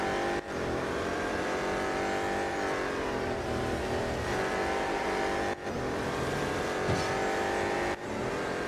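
BMW M Hybrid V8 race car in Real Racing 3, its engine roaring continuously and loud with layered rising and falling harmonics as it accelerates and shifts, with brief dips at gear changes.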